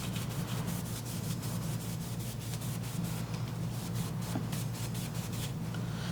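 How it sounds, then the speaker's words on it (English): A cloth rubs steadily over a glitter-coated UV resin pen to clear away sanding dust, a continuous soft scrubbing with repeated short strokes at close range and no talk. "we'll grab one of our little cloths and just wipe off all those sandings"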